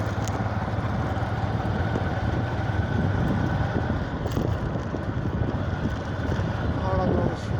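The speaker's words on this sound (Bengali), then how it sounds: "এই তো যাচ্ছে জোড়া নৌকা" Cargo boats travel in a pair along the Teesta river near the bridge, a steady low engine drone mixed with wind noise across the microphone, continuous and fairly close, with a person talking over it.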